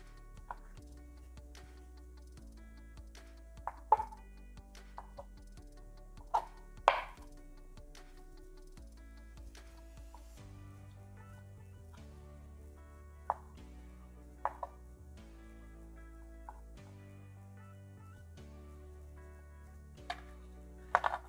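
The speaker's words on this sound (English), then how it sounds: "I just like to stack them up like this, about 3-4 at a time, and just cut straight down into some nice cubes." Knife cutting straight down through stacked slices of cheese into cubes for queso, sparse sharp chops on a board spread over a quiet stretch, with soft music underneath.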